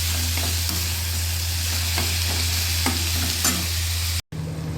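Onions frying over high heat in a pan for a dried shrimp stir-fry, a steady close sizzle with light scraping strokes of the spatula every second or so, ending in a brief cut.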